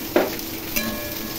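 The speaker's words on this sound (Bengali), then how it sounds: "নেড়ে নেড়ে নামিয়ে অন্য পাত্রে ঢেলে নিলাম" Bottle gourd and prawn curry stirred in a pan, with two soft scrapes of the spoon over a steady low sizzle and no talking.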